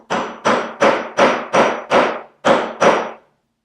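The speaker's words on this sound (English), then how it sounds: "I'm going to come in with a hammer, make a couple of hits." A hammer strikes a wooden plug being set into a chair leg, seven firm, evenly spaced knocks with a short pause before the last two, loud and close with no talking.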